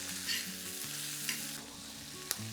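Peas, asparagus tips and small Bresse peppers simmer and sizzle in a pan with a little chicken broth, a close steady bubbling fry with a few brief utensil clicks and no talk.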